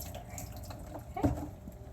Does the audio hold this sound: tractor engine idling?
no